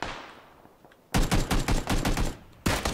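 Sharp rifle fire in the battle-royale shooter PUBG during an esports tournament final, a quick string of about eight loud, close shots in rapid succession, a brief pause, then another shot, with a faint fading tone before.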